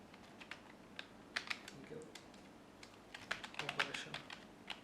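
Python code is typed on a computer keyboard in a run of light, irregular key taps that quicken toward the end, close by and fairly quiet.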